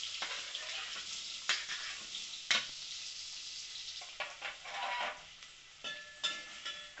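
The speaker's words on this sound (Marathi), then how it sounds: "कांदा परतून घ्या." Onions with green cardamom sizzling in a pan for a village-style chicken curry, a steady crackle of frying broken by scraping spoon strokes as they are stirred, close and moderately quiet.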